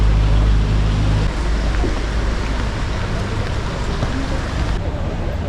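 Heavy rain pours down at a boat dock in Porto, Portugal, by the Douro River, a dense, loud, steady wash of noise close to the microphone with no pause.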